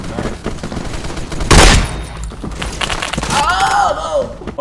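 M79 Thumper grenade launcher in the video game Phantom Forces, a single loud, sharp blast near the middle followed by clattering game effects and ringing tones, with a voice talking over parts of it.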